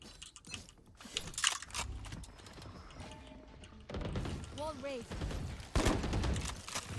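Rifle gunfire in the shooter game Valorant comes in quick bursts of shots along with clicking keyboard keys, while a voice talks in the background and the clatter grows louder toward the end.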